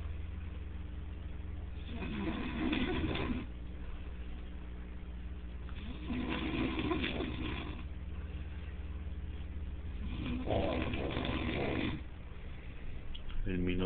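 A person snores in a house, three slow, raspy inhalation snores spaced about four seconds apart, heard close over a constant low hum, with no talking.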